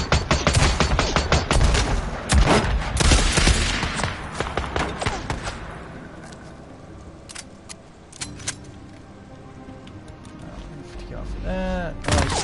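A .50 cal machine gun fires in Days Gone. Dense, rapid bursts of loud gunfire crackle through the first half, then the shots thin out into scattered reports against combat noise.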